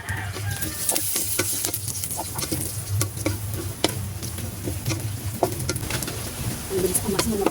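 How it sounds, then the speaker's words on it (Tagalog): Taro pieces dry-toasted in a pan without oil, for ginataang gabi, make a continuous dry rustling sizzle with frequent scraping and tapping of a spatula. A bird clucks faintly in the background. "Bali, sinasangag po muna siya"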